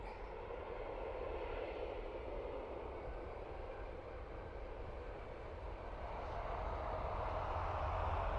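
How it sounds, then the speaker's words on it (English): A Ryanair airliner departing Dublin Airport for London Gatwick makes a steady, broad jet-engine roar at a distance that slowly swells louder toward the end, with no voices. "So another Ryanair, this time off to London Gatwick."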